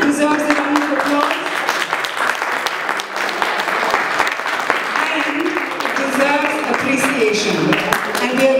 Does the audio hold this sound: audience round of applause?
yes